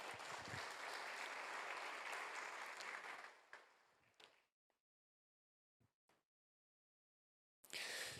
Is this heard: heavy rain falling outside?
no